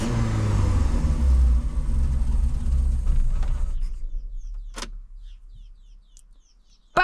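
VW Golf 2 engine running and revving, a loud rising drone that fades as the engine drops away, leaving near silence with faint chirps and a sharp click at the end.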